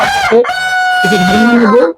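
A rooster, raised in a cage, crows loudly and close by, one long drawn-out call that wavers in pitch before trailing off.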